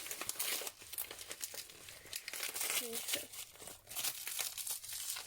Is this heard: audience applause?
no